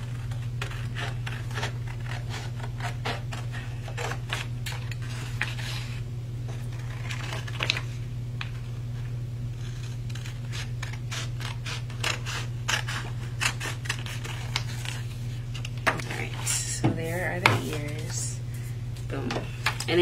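Repeated snipping of scissors through paper, a run of sharp short cuts over a steady low hum, with occasional quiet talking nearby.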